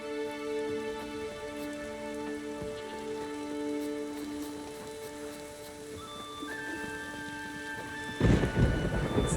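Rain and rumbling thunder from a storm in The Witcher 3: Wild Hunt, a continuous soft downpour under sustained tones with a louder, nearer thunder crash swelling near the end; no one speaks.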